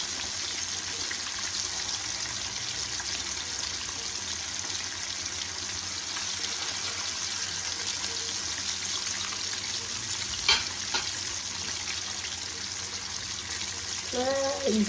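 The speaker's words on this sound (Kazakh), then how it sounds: "Осылай ақырын отта қуырып жатырмыз балығымызды." Fish frying slowly over low heat in a pan, a steady soft sizzle and crackle with occasional louder spits and a brief clink near the end, continuous throughout.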